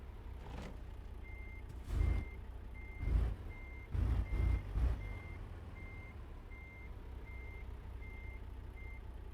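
A truck in American Truck Simulator backs into a parking space, its reversing alarm beeping at an even, steady rhythm throughout, with a few deeper engine or air-brake bursts midway and low engine hum beneath.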